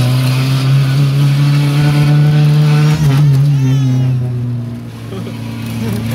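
A car engine drones loud and close on a city street, holding a steady throaty hum whose pitch dips briefly and then eases back up.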